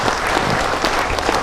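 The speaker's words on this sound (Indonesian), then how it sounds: "Oke, kita beri tepuk tangan lagi dong." A seated audience at a community empowerment event in Pekalongan, Indonesia, breaks into steady, dense applause, a brief burst of many hands clapping with no talk over it.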